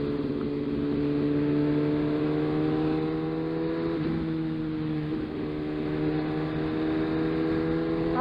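A Suzuki GSX-R1000R motorcycle cruises at a steady pace, its engine a loud, continuous droning hum mixed with rushing wind. The tone dips briefly twice midway before settling back.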